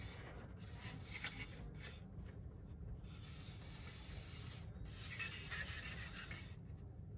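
A blade shaves excess sheeting off a model aircraft build, making faint, close scraping and rubbing strokes in short uneven bursts, with no talking.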